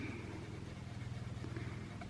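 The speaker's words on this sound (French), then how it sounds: "Si vous entendez un tracteur dehors" A low, steady tractor engine rumble with a pulsing chug runs throughout, heard from outside at moderate distance with no talking.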